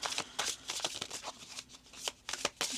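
A deck of oracle cards gets shuffled close up in rapid, papery riffles and flutters, each burst quick and crisp, with short pauses between bursts.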